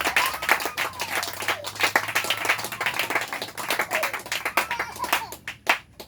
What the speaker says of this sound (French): Acclamez pour vous-même